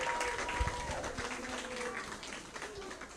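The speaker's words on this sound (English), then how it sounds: "Give him a warm round of applause." An audience at a college assembly applauds as a classmate is welcomed up, a steady wash of moderate clapping with voices mixed in throughout.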